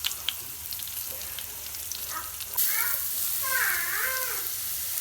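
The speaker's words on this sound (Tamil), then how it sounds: "நல்லா அடி பிடிக்காத அளவுக்கு நல்லா கிளறி விட்டுட்டே இருக்கணும்" Cauliflower upma being stirred in a frying pan sizzles, first faintly and then louder and steady, with light scraping of the spoon and a voice speaking over it in the second half.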